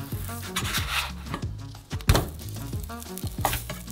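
Flatbread dough sizzles and crackles in a hot covered pan, with scraping and rubbing of a utensil, steady and close throughout.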